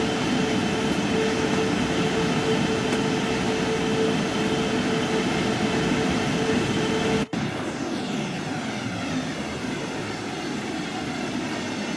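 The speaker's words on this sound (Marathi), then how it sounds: "एका याच्यामध्ये रूटमध्ये ती मालगाडी चालवायची आहे." A freight train runs in the Train Sim World 3 video game, a loud continuous rumble and engine drone with a steady tone, briefly cutting out for an instant partway through before carrying on.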